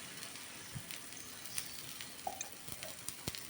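Wheat paniyaram batter sizzles steadily in a nonstick pan over a low flame, giving a continuous close frying hiss with scattered light pops and clicks. There is no talking.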